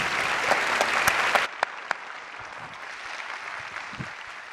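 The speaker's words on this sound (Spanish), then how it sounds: "Agradecemos al panel con muy fuerte aplauso." Applause from a conference audience after a panel at a national lawyers' congress, loud and dense for about a second and a half, then dropping to a thinner, quieter patter that fades out.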